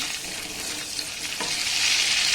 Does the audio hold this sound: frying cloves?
yes